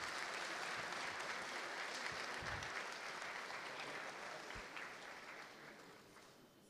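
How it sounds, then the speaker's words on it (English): Applause from the audience at the opening ceremony of a high-level UNEA-3 assembly segment, steady and dense clapping from a large hall that gradually fades. "A round of applause, ladies and gentlemen."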